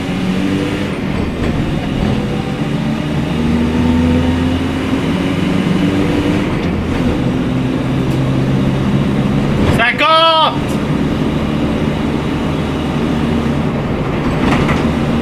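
A late-1999 Renault Trafic van engine idling steadily after the choke is pushed in, a loud close rumble with a brief rising rev near the end, while someone talks over it.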